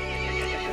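A horse in the Resident Evil Village video game lets out a short, loud neigh with a dense, harsh whinnying tone, heard alone.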